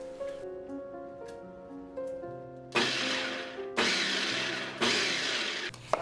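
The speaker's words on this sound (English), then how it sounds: "Pulse a few times just until pieces are medium chopped" A small food processor pulses onion and garlic in three loud, close bursts of whirring chopping, each about a second long. They follow a quieter tonal stretch, with brief pauses between them.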